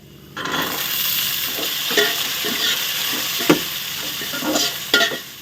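Green peas tipped into hot spices frying in a pan for Bengali basanti pulao set off a steady, close sizzle, with scattered scrapes and clinks of a spoon stirring through it.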